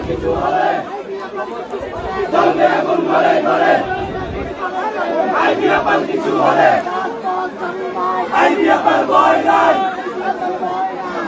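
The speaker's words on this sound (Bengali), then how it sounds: "তারা বিভিন্ন স্লোগান দিচ্ছেন" Residents protesting outside the house of a former mayor in Narayanganj chant slogans together, a loud crowd of raised voices rising and falling in waves with general chatter underneath throughout.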